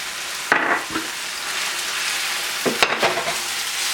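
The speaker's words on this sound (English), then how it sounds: "Alright, now we're going to throw our onions in" Onions drop into a pan of butternut squash pieces already frying with salt and pepper, giving two bursts of louder crackling and scraping as they go in and are stirred, over a steady background sizzle.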